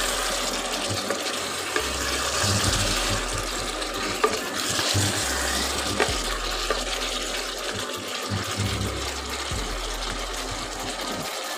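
Potatoes and bitter gourd fry in a pan while being stirred, giving a steady, moderately loud sizzle with scraping and stirring sounds throughout and no talking.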